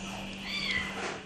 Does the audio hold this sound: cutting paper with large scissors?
no